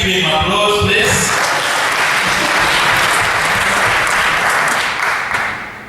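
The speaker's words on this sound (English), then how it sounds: "can we give him applause, please?" Loud, sustained applause from an audience at a university campaign event, dense clapping that holds steady for several seconds before beginning to fade at the end.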